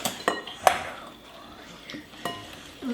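A utensil mixing egg and sugar for an Armenian Mesrop Mashtots cake, a few sharp clinks and scrapes against the bowl spaced irregularly, close and moderately loud.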